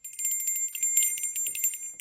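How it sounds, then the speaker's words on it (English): A small vintage sterling silver Elvis bell rings continuously with rapid, high, bright tinkling strokes, close and fairly clear for about two seconds. "She sent me a vintage sterling silver Elvis Bell."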